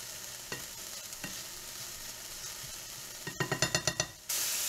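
Onions sautéing in a pan give a steady, quiet sizzle, broken by occasional scraping stirs and then a quick run of rhythmic taps near the end before a louder burst of sizzling.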